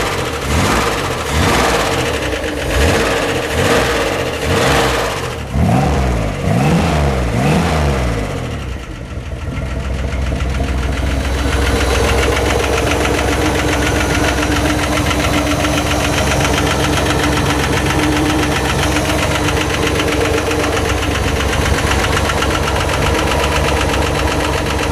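Old GM V8 on 40-year-old original lifters running with Flowmaster exhaust, first revving in pulsing surges, then settling into a loud, steady idle with a fast mechanical ticking throughout.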